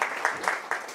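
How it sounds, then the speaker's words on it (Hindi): Students in an accounting lecture class clap together in brief rhythmic bursts. The sound is a moderately loud patter of many hands in a room. "ताली बजाओ यार"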